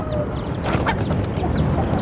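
Chickens clucking in a coop alongside long-necked Indian roosters, a busy overlapping chorus of clucks and squawks, close and continuous with birds chirping in the background.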